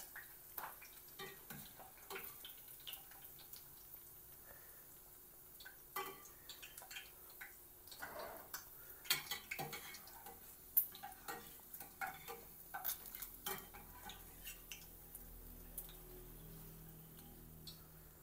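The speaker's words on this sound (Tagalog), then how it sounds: "this is first frying, yung first na prito natin" Oil crackles and pops steadily for a long stretch as pig intestines get their first frying, with irregular sharp spatters and faint stirring clatter throughout.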